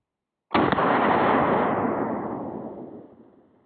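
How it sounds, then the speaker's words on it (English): An Orthos Arms Raider S4 shotgun fires a slug at targets outdoors: one sharp, loud blast followed by a long, fading rumble of echo. "the slugs might not go through body armor, but obviously they nuked a watermelon as well as a 2 liter"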